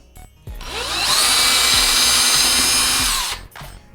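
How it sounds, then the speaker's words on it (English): A power drill bores a hole for model railway track wiring, its motor rising to a loud steady high whine for about two seconds before spinning down, close by with no talk. "So I'm going to drill a hole let's drill it right here."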